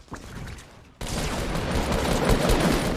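Sustained video-game gunfire bursts out after a brief quieter moment, a loud dense fusillade of rapid shots that keeps going to the end with no voices over it.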